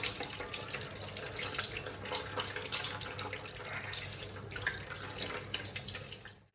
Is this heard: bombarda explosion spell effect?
no